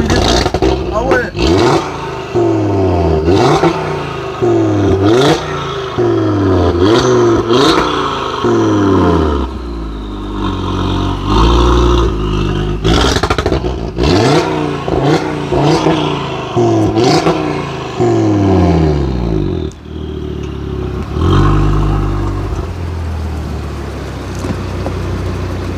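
An Audi RS3 drives off, its engine climbing through several rev sweeps with gear changes and pops, loud and near, with people talking intermittently.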